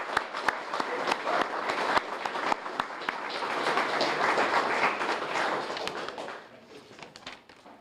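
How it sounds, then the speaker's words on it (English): A room full of people applauding at a fire department promotion and swearing-in ceremony, steady dense clapping with sharper individual claps, tapering off toward the end. "So if we could have a round of applause, please, for Lieutenant Patrick Richardson."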